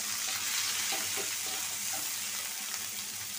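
Chopped onion fries in hot oil in a pan, a steady close sizzle with faint scraping of stirring, no voices.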